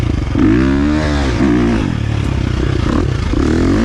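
A 2023 KTM 350 XC-F dirt bike downshifting mid-ride, its engine loud and close, the pitch sweeping up and dropping with each gear change over a constant rough rumble and clatter.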